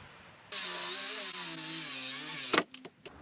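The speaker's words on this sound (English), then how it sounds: "I had to cut a taper in this board in order to get it in" A power saw bites into a wooden board to cut a taper for a backyard retaining wall extension, giving one loud sustained rasping whine of about two seconds. A few clunks of handling follow.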